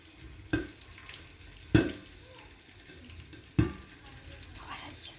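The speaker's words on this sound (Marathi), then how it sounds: "आवाज येत आहे मिरच्या उडतात त्याचा." Chillies frying in a covered pan for bitter gourd curry: three sharp pops stand out over a faint steady sizzle, spaced about a second or two apart.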